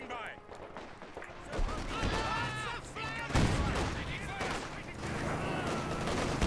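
Concentrated artillery barrage in Company of Heroes 2, with shells landing around a victory point as a rumbling succession of heavy blasts and crackling battle noise, mixed with other combat sounds and chirpy effects throughout.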